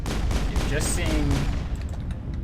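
Bursts of gunfire in a Mass Effect battle, a quick volley of sharp shots and ricochet-like whines close by, loud and dense for a couple of seconds, with a voice faintly beneath.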